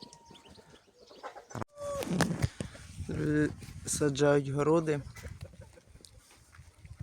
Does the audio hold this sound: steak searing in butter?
no